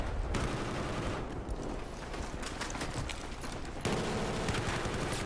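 Rapid bursts of gunfire crackle through a competitive shooter match, close and continuous with dense overlapping shots and a brief dip before firing resumes near the end.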